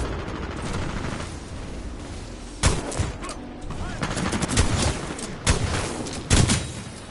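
Mastiff shotgun firing in Titanfall 2, several loud, sharp blasts spaced irregularly over a dense backdrop of continuous game noise and gunfire.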